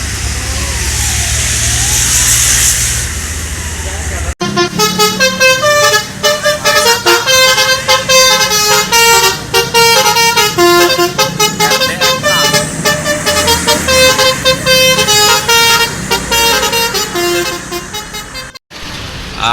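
A bus telolet horn plays a loud, rapid multi-note melody in choppy repeated bursts for several seconds over engine noise, after a stretch of plain engine rumble.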